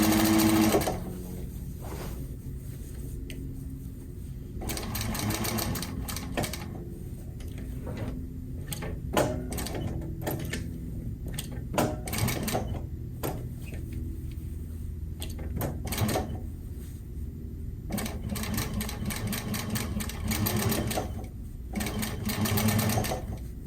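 Sewing machine stitching a box cushion slipcover, bursts of rapid mechanical stitching that start and stop repeatedly with short pauses between runs, close and clear, no talking.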